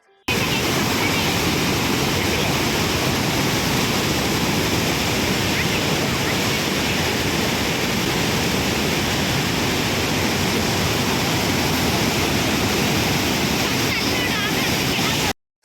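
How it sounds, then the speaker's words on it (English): Powerful water rushes out of the Markonahalli Dam gates near Bengaluru, roaring in a dense, constant rush, loud and close, with no pauses from start to finish. "I hope you enjoyed the force of the water that was going out from the dam"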